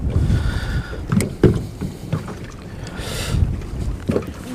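A boat's trolling motor on spot lock holding position on Bull Shoals lake, a low steady hum beneath wind buffeting the microphone and small water sounds, fairly close.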